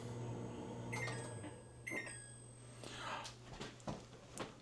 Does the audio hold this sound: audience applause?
no